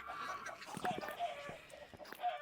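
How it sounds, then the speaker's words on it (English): Chickens clucking in Minecraft, a few short squawks and clucks scattered over a low game background, faint and somewhat distant. "He's killing all my chickens."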